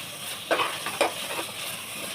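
Chopped tomatoes drop into hot masala for mushroom biryani, giving two soft sizzling bursts over a quiet, steady frying hiss.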